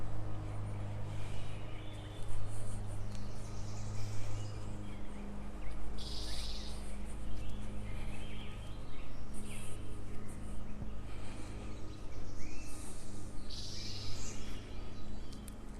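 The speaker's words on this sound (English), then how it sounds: "There's all kinds of birds out singing over there." Birds sing outdoors in a wooded spot, with scattered chirps and calls rising over a steady low rumble and hum from the surroundings, continuous but somewhat distant.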